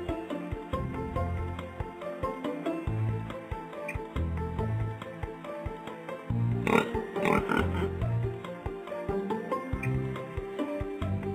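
A pig oinks in a baby animal-learning video game, with grunts near the middle heard over a steady, loud backing music track.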